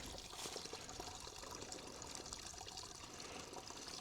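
Water from an overflowing beaver pond pours and trickles steadily, a constant splashing rush that stays close and fairly soft throughout, with no voices.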